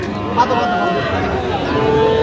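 A bull lows at a busy rural cattle market in Bangladesh, the moo sounding through steady crowd chatter and bargaining voices, with tonal calls standing out across the short stretch.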